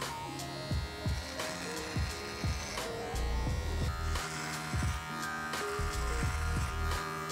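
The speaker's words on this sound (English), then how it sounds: "I'm then gonna take my adjustable clipper with a number 2 guard, and I'm going to work downwards to remove the bulk of the beard on the sides" An adjustable hair clipper fitted with a number 2 guard trims a thick beard, a close, steady electric buzz broken by repeated short strokes as it passes through the hair.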